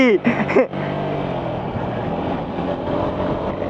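Vehicles labouring up a steep mountain road in Bandarban, a steady loud engine drone continuing throughout after a brief voice at the start.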